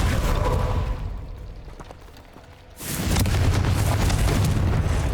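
A blasting-spell explosion in the video game Hogwarts Legacy, a loud booming burst that dies into a quieter rumbling lull, then a second heavy blast-and-roar sustained to the end.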